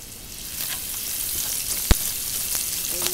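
Minced garlic sautés in hot oil for totsong bangus, giving a continuous close sizzle with a few sharp pops and light stirring clicks, no voices.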